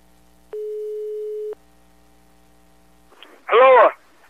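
An outgoing call's ringback tone sounds once as a steady one-second beep over a quiet line, then a voice answers after a pause.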